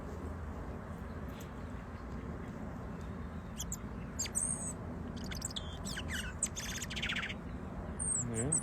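A bird singing in a garden on a rainy morning: a run of quick, high chirps and tweets, fairly faint and intermittent over a steady background hiss.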